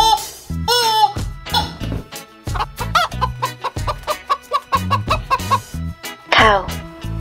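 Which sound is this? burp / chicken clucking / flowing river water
chicken clucking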